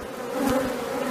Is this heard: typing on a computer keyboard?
no